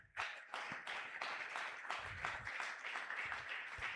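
A church congregation at a Sunday praise and thanksgiving worship service applauds and cheers steadily, a dense sustained wash of clapping with scattered low thumps, filling the hall throughout.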